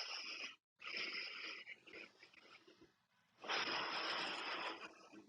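Slow, airy breaths drawn in and out during a yoga pose, close and soft, with a brief silent gap and a louder, longer exhale near the end.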